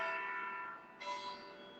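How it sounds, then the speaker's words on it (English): Church bells ring at a distance with sustained, resonant tones, a fresh strike landing about a second in while the earlier tones still hang in the air; no talking. "Church bells just rang."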